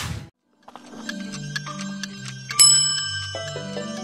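A chiming notification bell rings out after a brief swoosh, with a sequence of bright, layered ding tones stepping along and a louder final chime ringing out and fading.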